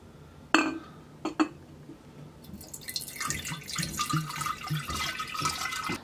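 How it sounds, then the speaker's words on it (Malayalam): Half a liter of water poured into a glass bottle while making homemade beer, opening with a few sharp glass clinks, then a gurgling, splashing pour building and continuing to the end. "അര ലിറ്റർ വെള്ളം ഒഴിച്ച് കൊടുത്തു കേട്ടോ."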